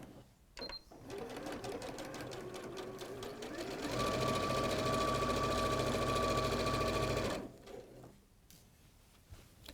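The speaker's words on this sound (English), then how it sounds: "I'm just going to sew down the outer edge." A sewing machine stitches down the outer side seam of a pair of trousers in one steady, close run lasting a few seconds. Quieter handling noises come before and after it.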